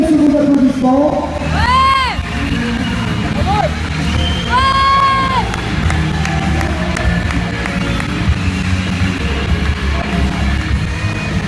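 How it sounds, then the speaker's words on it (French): A crowd at a martial arts event cheers and applauds as a fighter steps onto the tatami, with shouts and whoops rising over continuous clapping and crowd noise. "Se présente sur le tatami sous vos applaudissements."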